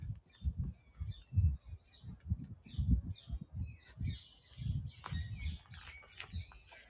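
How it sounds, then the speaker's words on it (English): Ring-necked parakeets and a great spotted woodpecker calling in Perivale Wood, with scattered chirps and sharp calls over a busy low rumble of wind or distant traffic, the birds moderately distant and fairly faint. "Probably the nearest thing you can hear are the ringneck parakeets though"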